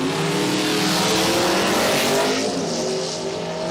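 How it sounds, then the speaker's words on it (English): A rear-mounted turbocharged small block Ford station wagon drag races on an Australian eighth-mile strip, its engine a loud, continuous roar that holds steady before easing slightly toward the end. "Rear-mounted turbocharged small block Ford."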